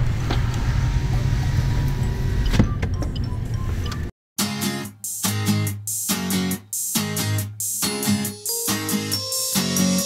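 A Suzuki Swift Sport ZC33S fitted with an SWK high-flow turbo accelerates. A steady engine roar is followed by a brief gap, then a series of rising revving surges separated by short breaks.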